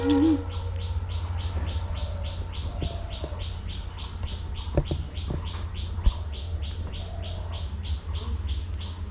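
Small birds chirping and cooing at a household feeding, with a steady train of quick repeated tweets, faint occasional calls and a continuous low hum underneath; no talk.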